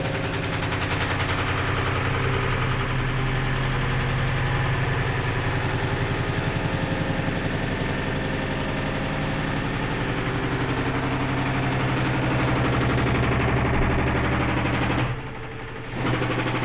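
An unloaded, poorly levelled washing machine spins with massive vibration, making a loud continuous rattling drone and rapid knocking that lasts for many seconds, then drops away sharply near the end.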